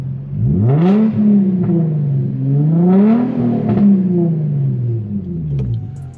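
An untuned car with a DE engine revs twice, the exhaust tone rising and falling in two loud, smooth sweeps with a brassy, trumpet-like character, close by and without talk.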